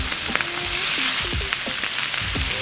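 Octopus tentacles frying in avocado oil in a hot pan give a loud, continuous sizzle with crackling pops, close and alone, with occasional scraping stirs.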